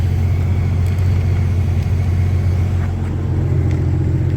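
A Porsche 993 idling with its oil cooler fan off gives a steady, loud low rumble throughout, with a few faint clicks on top and no talking.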